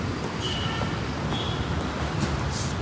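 Metro train at a municipal metro station in India, a steady rumbling hum of the train and station running continuously at moderate loudness, with faint higher hiss and squeal touches and no voices.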